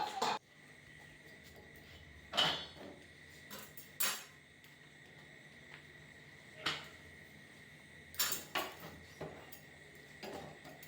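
Dishes, pots and pans clink and clatter intermittently in a home kitchen as utensils are cleared before washing, several sharp, scattered knocks over a quiet hum, with no talk.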